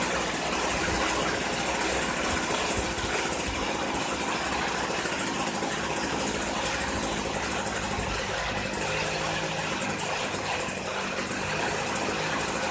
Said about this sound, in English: turn the idle screw counterclockwise to reduce the engine speed below the point the trimmer head does not turn, yet fast enough for a smooth run at idle